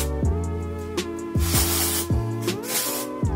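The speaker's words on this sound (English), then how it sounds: "I will add some dry shampoo" Dry shampoo hisses from an aerosol can onto hair in a few broad bursts, close and fairly loud, over steady background music and with no talking.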